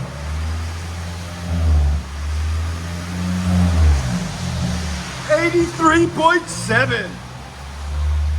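A Toyota Prius fitted with an aftermarket exhaust drones in a steady low hum, then rises through a few quick revving bursts near the end, with a person talking over it.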